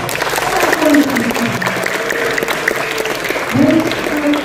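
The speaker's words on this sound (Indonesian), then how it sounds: "Tepuk tangan buat kita semua" Audience applause at a film gala premiere night in Indonesia, a steady crowd clapping sustained throughout, with a voice speaking over it and music-like tones swelling at moments.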